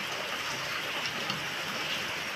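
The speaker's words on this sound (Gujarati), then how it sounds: "તમને વરસાદનો થોડો ઘણો અવાજ આવશે હો" Rain falling outdoors around a wood-fired stove while a forest vegetable dish is being cooked, heard as a steady, even hiss with no talk.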